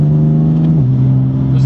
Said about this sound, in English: Those gear changes are immediate.